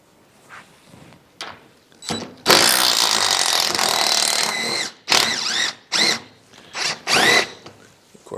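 Impact wrench fitted with regular sockets backing off carriage bolts that hold angle iron on a truck, heard as several loud whirring bursts of varying length with short pauses between them.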